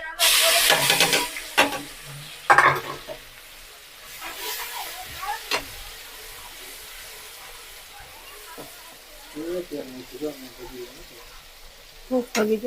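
Onions go into hot oil in a Kathiyawadi kitchen with a loud burst of sizzling and hissing at first. The frying settles into a quieter, intermittent crackle with stirring, and a voice speaks at moments.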